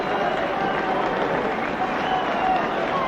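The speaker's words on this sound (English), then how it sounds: "John Riley going off to a very warm round of applause." A football crowd at Dundee United v Kilmarnock in the 1982 Scottish Premier Division gives warm, steady applause as John Riley leaves the pitch, a dense, continuous wash of clapping from the stands.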